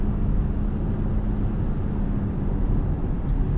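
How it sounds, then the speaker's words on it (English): Steady broadband road roar and tire hum from a 2001 Toyota Camry LE driving at speed, a constant low rumble filling the cabin with no talking. "Here's some tire noise."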